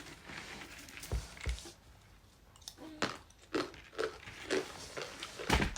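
Crunchy homemade chakralu, a spicy fried snack, snap and crackle as they are bitten and chewed up close, in irregular crisp bursts separated by quieter pauses.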